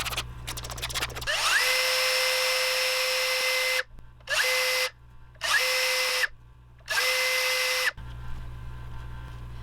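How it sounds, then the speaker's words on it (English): A power drill whirs at high speed into wood, drilling a half-inch lead hole for a crankbait lure, running in one long burst and then three shorter pulses, stopping cleanly between each, with no talking. "drill a lead hole"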